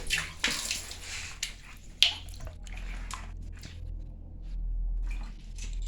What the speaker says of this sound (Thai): เราลงลงน้ำนะครับ ลงน้ำให้ดูครับ